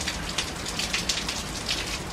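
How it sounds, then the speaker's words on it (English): Rain from Hurricane Francine falls heavily and steadily in Algiers, Louisiana, with a dense hiss of drops hitting surfaces and slight pulsing surges. "The winds pick up a little bit and there's a heavy downpour and then it backs off."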